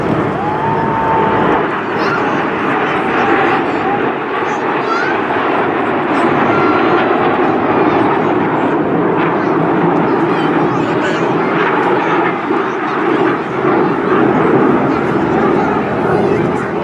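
A Tornado jet flies at a seaside airshow, its loud, steady engine roar filling the air alongside crowd noise, with a brief rising whine early on.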